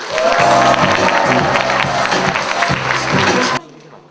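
A large crowd at a civic youth rally applauds and cheers loudly and continuously, then the noise cuts off abruptly near the end.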